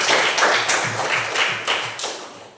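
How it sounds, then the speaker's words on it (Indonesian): Classroom applause from students for a classmate named Darmin, a short burst of many hands clapping fairly close, with rapid overlapping claps that fade toward the end. "Tepuk tangan buat Darmin."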